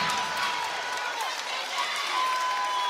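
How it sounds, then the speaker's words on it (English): A basketball crowd at Switzer Gymnasium roars and cheers in a loud, sustained wash of noise, with a commentator's voice over it. "This crowd's going at Switzer Gymnasium. Listen to this place."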